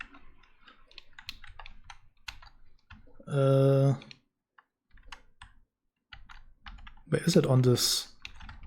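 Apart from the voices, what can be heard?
typing on a computer keyboard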